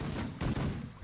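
Ship guns fire in The Last Leviathan with heavy, booming reports. Two close blasts land a fraction of a second apart within a brief burst of loud gunfire.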